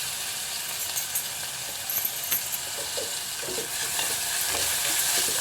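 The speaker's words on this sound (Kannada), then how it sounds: "ಈ ಥರ ಈರುಳ್ಳಿ ಫ್ರೈ ಆದಮೇಲೆ ಹಾಕ್ಕೊಳ್ತಾ ಇದ್ದೀನಿ. ಹಾಗೆ ಕ್ಯಾರೆಟ್ನ ಹಾಕ್ಕೊಳ್ತಾ ಇದ್ದೀನಿ." Onion and carrot frying in a pan, a steady close sizzle running throughout with light stirring scrapes and a few clinks against the pan, no voices.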